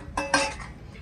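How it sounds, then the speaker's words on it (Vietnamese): A thin, shallow metal cooking pot, about 15 cm across and 6.5 cm deep, handled briefly, giving two quick light metallic clinks close by, then quiet. "một cái nồi nó cũng khá mỏng, nồi này mỏng lắm"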